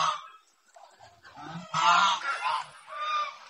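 Domestic geese on a farm at dusk honk as they head for shelter, several loud overlapping calls rising and building, close by, with no speech.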